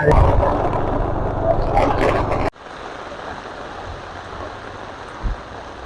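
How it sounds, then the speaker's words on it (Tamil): Heavy rain falling during a flood in Jaffna, a dense steady roar of water that stays loud throughout, with a brief louder burst near the end. "அது மழை"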